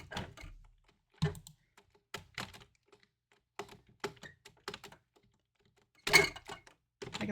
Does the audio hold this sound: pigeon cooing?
no